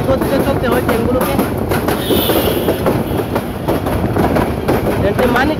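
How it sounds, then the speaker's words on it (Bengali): A train running through Manikkhali railway station on a slow section between Bhairab and Mymensingh, heard up close: heavy rolling rumble with repeated wheel clatter and a brief high squeal, steady and loud throughout. "ট্রেনটি মানিকখালী রেল স্টেশনে প্রবেশ করছে"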